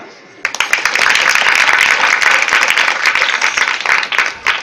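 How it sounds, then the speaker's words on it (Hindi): A crowd claps at a Radhe Shyam temple gathering during a nagar kirtan, with dense, loud applause that starts abruptly and continues steadily with sharp individual claps. "ताली।"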